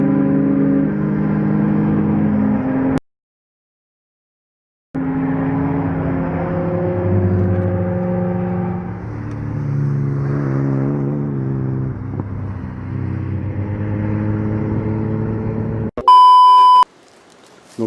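A BMW on the Urcy circuit, its engine note rising and falling through hard revs as it laps, cutting out briefly partway through, then a sharp electronic beep near the end.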